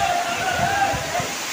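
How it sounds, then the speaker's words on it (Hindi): A waterfall at Kakolat in Nawada, Bihar, pours down a hillside, making a steady, full rushing wash of water with faint voices mixed into the roar. "पहाड़ से कैसे पानी गिरता है देखिए"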